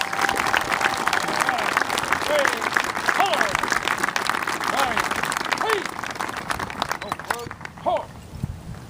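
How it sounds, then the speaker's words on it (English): A crowd at a Memorial Day ceremony applauds veterans and their families with loud, dense, sustained clapping that tapers off near the end. "A round of applause for all of our veterans and their families."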